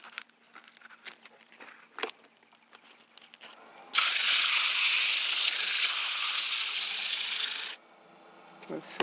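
Hand sanding of a turned wooden bowl with coarse 40-grit sandpaper: a steady, close scratchy rasp runs for about four seconds without pause, preceded and followed by quieter handling noises.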